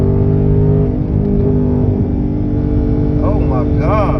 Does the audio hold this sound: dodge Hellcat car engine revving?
yes